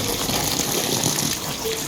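Water gushes in a steady, close rush while filling a new swimming pool, a continuous full-bodied flow with no pauses.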